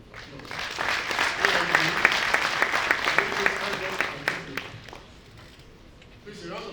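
Graduation ceremony audience applauding in a large hall, sustained clapping from many hands that gradually thins and fades toward the end, with a speaker's voice heard over it.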